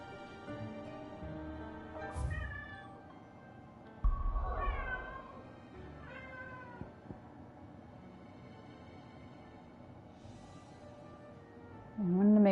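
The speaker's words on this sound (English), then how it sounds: "My cat is very playful." A playful pet cat meowing several times in a quiet room, short rising and falling calls spaced across the stretch, fairly near, with game music and sound effects faintly underneath.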